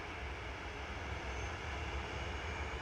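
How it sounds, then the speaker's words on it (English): A Jet2 Boeing 737-800 departing Manchester Airport gives off a steady, dense engine roar that holds evenly throughout the short stretch, with no voices. "Jet2 903 to Thessaloniki now. JZDD 737800."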